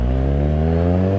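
A Kawasaki Z1000 motorcycle engine revs loud and close, a sustained, rising mechanical roar with a strong steady tone and no voices over it.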